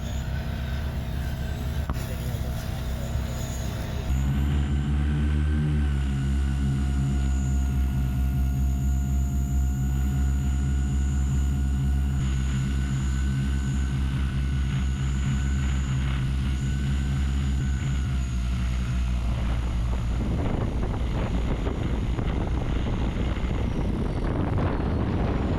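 Quadcopter drone in flight during a fire weather deployment near Missoula, a steady multi-rotor buzz with strong harmonic tones, loud and continuous at close range, climbing in pitch after a few seconds and breaking up into wind-buffeted noise near the end.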